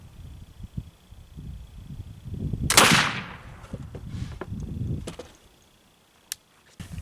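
A single sharp gunshot fired with homemade black powder made from toilet paper cracks out close by amid outdoor rustling and handling noise, followed by a few faint clicks.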